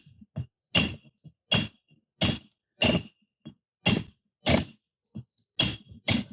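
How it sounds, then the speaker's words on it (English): A sharp chisel struck against a stone corner to dress a flat face: about eight crisp, ringing metallic hits at a steady, slightly uneven pace, close and loud, with short silences and faint taps between. "you take with a sharp chisel, you come in from this side and make a flat piece there"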